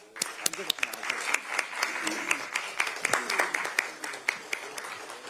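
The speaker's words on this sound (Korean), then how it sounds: "큰 박수 부탁드립니다." Audience applause at a Democratic Party supreme council meeting as a flower bouquet is presented to a newly seated council member; scattered sharp claps over a steady wash of clapping, with some voices mixed in, moderately distant.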